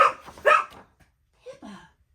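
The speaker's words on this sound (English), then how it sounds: "No barking." A dog barks nearby indoors, two sharp yips close together and then, after a short pause, a couple more softer barks with a whiny edge, with no talking over them.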